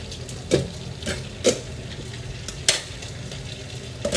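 Food frying in hot cooking oil gives a continuous close sizzle, broken by a few sharp clinks and scrapes of stirring.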